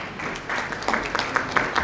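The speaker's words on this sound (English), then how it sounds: "If we're clapping, let's do it with all our heart, yes?" A conference audience claps to welcome a speaker onto a healthcare panel, a steady wash of applause with sharper individual claps standing out, fairly loud and close, with no speech over it.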